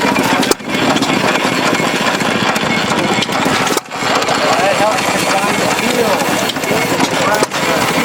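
A Hercules 1½ HP hit-and-miss engine fired by a regular car coil kept cool in a bucket of water runs close and loud, with steady mechanical chugging broken by a few brief drops.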